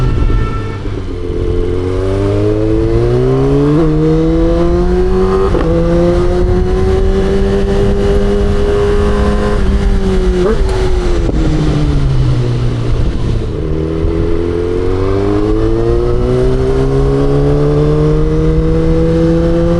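A Kawasaki ZX10R sport motorcycle is ridden on the road, its engine droning loudly and continuously, the pitch rising and falling as the rider accelerates and eases off through the gears, with wind noise underneath.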